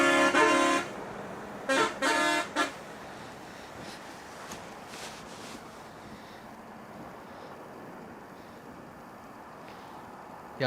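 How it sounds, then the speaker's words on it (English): A few short car horn honks in quick succession near the start, then steady outdoor rumble and wind noise at a cold, snowy Toronto Pearson Airport. "Y'all hear that? Fun honk."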